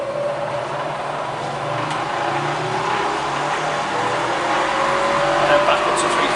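Bridgeport Vari-speed milling machine with a 42-inch table, spindle winding up in speed with a rising whine and steady mechanical hum, fairly constant and moderately loud.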